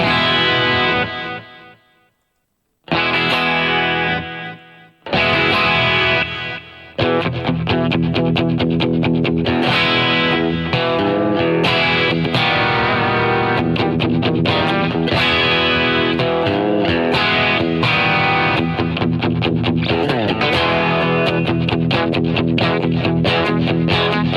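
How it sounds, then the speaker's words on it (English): Electric guitar through a Line 6 Pod GO with a light crunch of distortion, playing chords and riffs; a couple of brief pauses early, then steady continuous playing. "So we have a very light crunch distortion."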